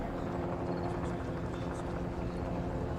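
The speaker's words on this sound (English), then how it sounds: "there's just a helicopter" A helicopter flies overhead during the 1990 Oka Crisis standoff in Kanehsatake, Quebec, its steady rotor drone filling the scene continuously at moderate distance.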